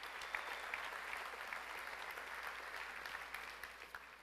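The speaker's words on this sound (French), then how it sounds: "Je pense qu'on peut leur donner une bonne applaudissement." Steady applause from a banquet audience at the Victoriaville mayor's 2023 dinner, fairly distant and continuous for about four seconds with no speech over it.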